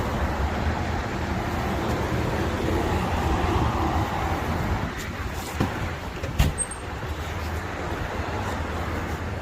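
A car drives along a road, heard from inside as a steady broadband rumble of engine and tyre noise with a few faint knocks and clicks and no talking.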